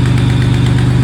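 A BMW Z3 with a twincharged turbo engine and an exhaust leak idles nearby, giving a loud, steady, slightly uneven rumble throughout.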